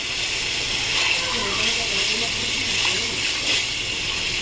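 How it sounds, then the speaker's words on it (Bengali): Water from a rinsed bowl poured into a hot cooking pan of aalu posto, giving a steady close hiss and gush with sizzling throughout. "এবার আমি মিশিয়ে বাটি ধোয়া জলটা দিয়ে দেবো।"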